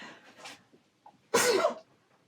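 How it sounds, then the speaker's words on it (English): A single loud, sharp sneeze from a person with a dust allergy, preceded by a couple of quiet breaths and small throat sounds in a quiet room. "I'm going to sneeze now in a second."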